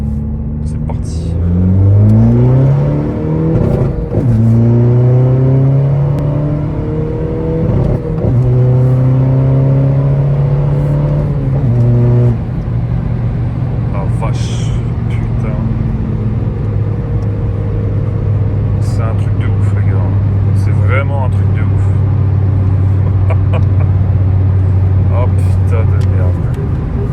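A Seat Ibiza 300 with stage 3 tuning is driven on a test run, its engine revving up through several gears, then droning steadily at speed, loud and continuous with a voice speaking over it.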